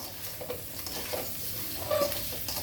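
Halved boiled baby potatoes dropped into a hot pan to fry, a soft continuous sizzle with light stirring scrapes and a small louder clatter near the end.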